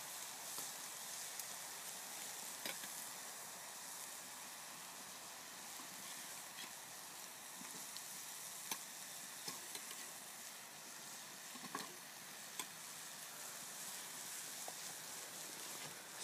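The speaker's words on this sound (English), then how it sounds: "on this Morris pot, you'll see it bubbling out if it's still a little too hot" A pot bubbles over an open cooking fire outdoors, a steady soft hiss and sizzle with faint scattered pops and crackles, quiet and continuous throughout.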